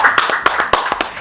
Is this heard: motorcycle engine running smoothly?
no